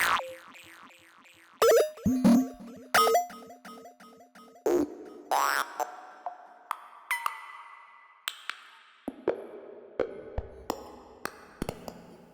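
Psytechno synth preset in Ableton Live 12 with a redux effect modulated on and off plus delay: bouncy, plucky synth hits in irregular bursts, with pitched pings and echo tails that change texture partway through.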